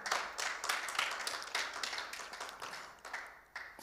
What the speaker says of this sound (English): I want you to give a round of applause for yourselves for being here again.